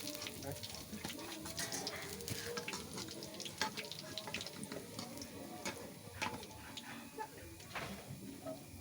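Pumpkin fritters frying in a pan of oil, giving a steady crackling sizzle with sharp spattering pops throughout, fairly quiet and close; a voice talks softly at times.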